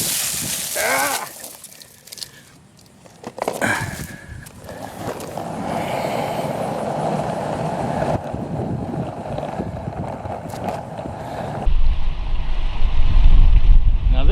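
Wind gusts steadily over a small coastal anchorage in Stuart, Florida, after Hurricane Matthew, a continuous broadband rush that buffets the microphone and swells louder toward the end.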